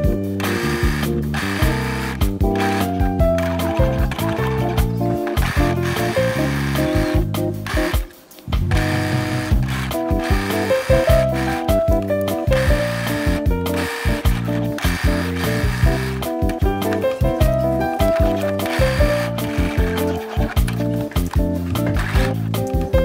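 A sewing machine runs half-inch stitching around a pinafore neckline facing, its needle chattering in a rapid mechanical rattle through repeated bursts with a brief pause midway.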